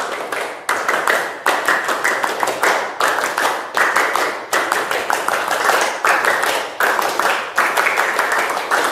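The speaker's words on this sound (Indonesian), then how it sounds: "Ya, tepuk pramuka." A classroom group performs the rhythmic Pramuka scout clap, loud and close, with bursts of many hands in a patterned beat separated by short pauses, repeating for several seconds.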